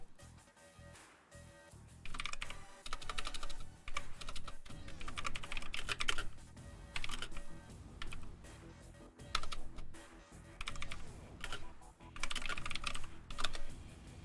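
Loud, clattering keystrokes on a computer keyboard come in dense bursts separated by short pauses, close and prominent, during an Echo Arena VR match session.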